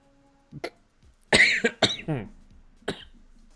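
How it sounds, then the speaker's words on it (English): Several close coughs from one person, a couple of short ones followed by a louder burst of harsh hacking coughs and a final cough after a pause, with no other sound. "I was holding back a cough, and then it just made more."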